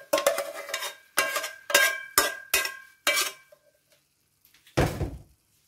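Sautéed mung beans with chicken are stirred in a pot as ginisang monggo: a quick run of six rhythmic spoon scrapes and knocks, then a short pause and one final scrape. Loud and close, no voices.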